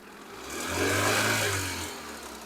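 Engine of a used car revved once in a smooth rise and fall, close up, with a steady low drone under the swell and no talking.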